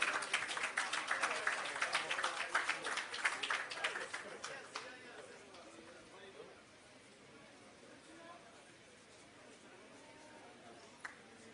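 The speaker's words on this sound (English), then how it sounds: "Both of them, please give them a round of applause." Audience applause at the opening of an agro park in Clarendon, a dense burst of clapping that tapers off after about six seconds into quiet room tone, with one sharp click near the end.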